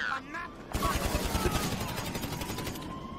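Rapid automatic gunfire in Grand Theft Auto Online, a dense stream of shots lasting a couple of seconds after a brief pause, with a voice speaking underneath.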